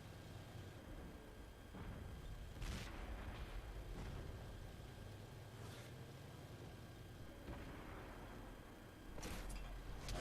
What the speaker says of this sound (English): So now shots coming in from across the lake